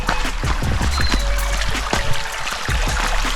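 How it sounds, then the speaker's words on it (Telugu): A small stream flows through a farm field, running water trickling and splashing in a continuous close burble with brief gurgles and drips, no talking heard. "వాటర్ ఖతర్నాక్ సౌండ్ చేసుకుంటూ వెళ్తున్నది."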